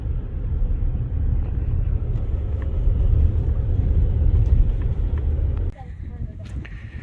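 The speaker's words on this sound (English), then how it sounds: "We have definitely hit something, bottomed out once or twice from white knuckling the steering wheel." A rental car drives over rough desert terrain in Utah, a loud steady low rumble of engine and tires that drops off suddenly near the end, followed by a quieter stretch with faint knocks.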